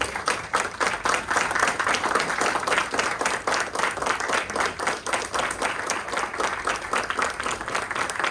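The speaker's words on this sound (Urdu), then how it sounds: "اور جمیل صاحب اور نصیر صاحب کا کھڑے ہو کر تالیوں کے ساتھ استقبال کریں" An audience applauds steadily, many hands clapping in a dense, even patter that continues throughout without voices standing out.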